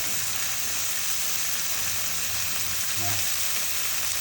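Vegetables, snow peas and flowering garlic, stir-fry in a pan with a loud, continuous hissing sizzle and faint low rumble throughout.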